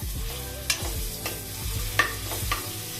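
Cumin seeds and ginger garlic paste frying in a pan, a soft steady sizzle broken by a few sharp scrapes of stirring spaced about half a second apart.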